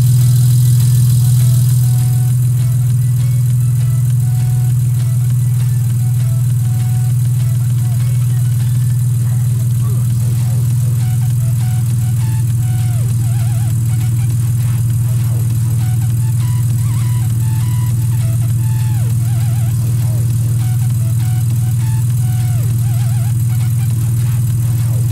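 Steady engine of a 2006 Mitsubishi Eclipse GT with an alternator overcharging fault, running continuously with a strong low hum and constant drone throughout, close and loud.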